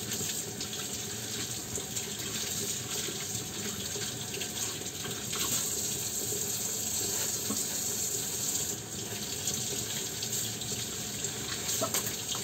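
A kitchen tap runs steadily while noodles are being cooked for lunch, a continuous broadband splash of water into a sink that stays even and fairly loud for the whole stretch, with no voices.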